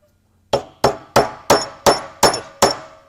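A part clamped in a vise on a 1961 VW Beetle is struck seven times with a hammer in an even, steady rhythm, each tap sharp, close and ringing, with no talking.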